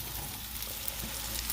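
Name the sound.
hash browns frying in a pan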